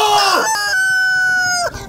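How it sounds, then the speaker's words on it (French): A rooster crows loudly and close by in one sustained, strained cock-a-doodle-doo call that trails off into a short cluck. "Hé, c'est un coq!"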